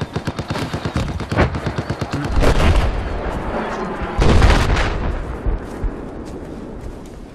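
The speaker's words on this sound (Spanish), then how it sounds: "Me están disparando desde atrás" Battlefield 4 gunfire: rapid machine-gun bursts rattle close and loud, broken by heavier explosive booms and rumbling blasts, with a voice faintly under the din.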